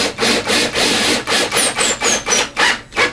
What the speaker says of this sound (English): And screw that in